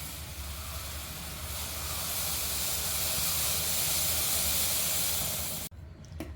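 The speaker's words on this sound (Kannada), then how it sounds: "ಈಗ ಉರಿಯನ್ನು ಜಾಸ್ತಿ ಇಟ್ಕೊಂಡು ಹಾಲನ್ನು ಕುದೀಲಿಕ್ಕೆ ಬಿಡೋಣ" Milk for masala tea heating toward a boil over a high flame, giving a broad, steady hiss that swells slightly, then drops out abruptly near the end.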